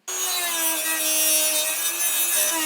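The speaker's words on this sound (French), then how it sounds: "je vous conseille d'utiliser une Dremel pour plus de précision" A Dremel rotary tool cuts through a laptop RAM module, giving a loud, steady, high-pitched grinding whine that holds for the whole stretch after starting abruptly.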